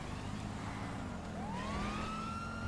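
A police car siren wails in GTA 5 Online, its rising tone sweeping up clearly over a steady engine and traffic rumble, with no talk.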